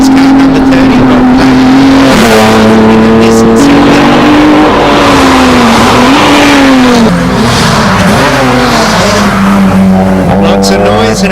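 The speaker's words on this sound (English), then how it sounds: "lots of noise and a bit of tyre spin, and away they go" A hillclimb race car at the Legend of the Lakes event launches off the line with loud engine revving, rising gear-by-gear pitch sweeps and spinning tyres, very close and dominant with a commentator talking over it.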